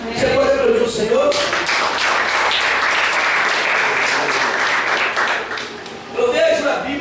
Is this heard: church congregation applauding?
yes